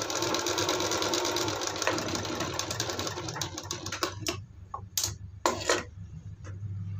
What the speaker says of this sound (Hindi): इस तरीके से मोड़ते हुए इसके ऊपर सिलाई लगा देते हैं।